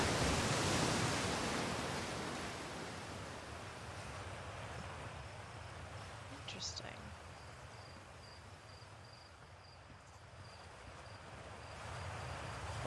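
Waterfall rushing in the video game Outer Wilds, a steady broadband hiss of falling water, fairly faint and continuous, swelling slightly at the start and end with a thin high tone over it.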